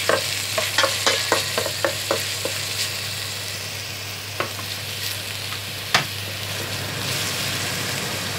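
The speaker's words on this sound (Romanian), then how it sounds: "după ce ceapa se va căli ușor, vom adăuga și morcovele și ardeiul" Onion sautéing in a pot for a meatball soup, a close sizzle with a run of clinking spoon strokes against the pot early on, then a louder single knock, over a low steady hum.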